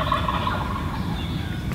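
A wild turkey gobbles loudly and close by during a spring bowhunt, with one rolling gobble standing out clearly over the outdoor background.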